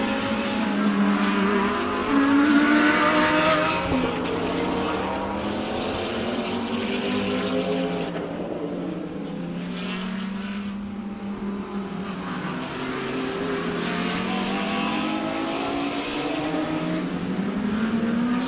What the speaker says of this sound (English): Aldo Scribante is about to be caught and passed again by Michael Stephen